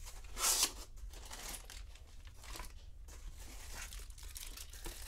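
Packaging crinkles and tears as a brand-new beam spring keyboard is unpacked from its box, with a brief louder rustle near the start, then quieter steady handling noise close by.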